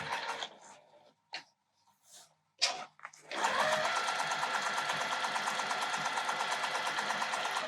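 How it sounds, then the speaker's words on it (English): A sewing machine stitches quilt binding, starting after a few scattered handling bumps and then running steadily with a fast, even rhythmic clatter close by. "Now I'm not going to sew all the way across."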